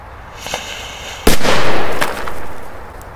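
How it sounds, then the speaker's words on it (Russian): A big firecracker set off near a toy car goes off in one sharp loud blast, followed by roughly two seconds of broad hissing, crackling burn that fades, with a faint pop just before it. "И думаю, будет хороший взрыв."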